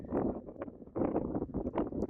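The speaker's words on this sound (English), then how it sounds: "It's a bit windy out here," Wind buffeting a microphone outdoors near a horse stall, a steady low rumbling roar with gusty surges throughout the short stretch.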